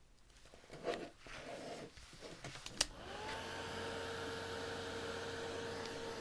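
A hair dryer dries paint on a painted bucket Easter craft. It switches on partway through after some light handling noise, then holds a loud, steady, close whir to the end.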